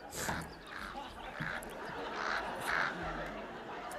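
Several crows cawing in a rough, repeated series of harsh calls at a moderate distance, fairly faint over a low background rumble.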